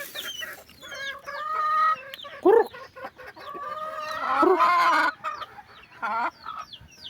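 Red junglefowl clucking in a run of short, repeated calls with a few louder, sharper squawks in between. The calls are close and clear with no talking.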